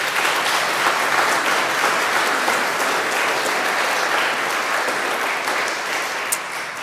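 An audience at the Tasmania 2021 Australian of the Year Awards applauds the nominees, steady and full throughout, with one sharper clap standing out near the end before it starts to taper.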